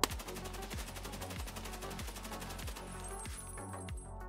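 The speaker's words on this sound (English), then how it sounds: "And here is the crouching recoil of the AK-12." Rapid automatic fire from an AK-12 rifle shot from a crouch in Escape from Tarkov, a steady run of sharp, evenly spaced shots with heavy low thumps, loud and close, with no talk over it.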